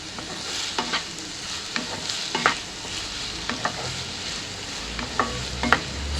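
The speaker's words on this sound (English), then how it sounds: "Mixing it and stirring it so that it turns golden brown quickly on all the sides." Soya chunks being stirred as they fry in a pan: repeated scraping strokes of a spoon at an uneven rhythm, close and moderately loud over a steady background sizzle, with no talking.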